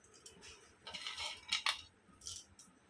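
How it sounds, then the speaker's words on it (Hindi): Peanuts pounded coarsely in a mortar: a few close, sharp knocks and clinks in an uneven rhythm, with no talk. "अभी सबसे पहले सेंगदाने को कूट कर लेंगे।"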